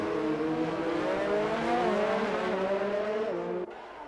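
Video game race car engines, including Ferraris, roar steadily with rising and falling whine in an Austria F1 league race, loud and close, dropping off abruptly near the end.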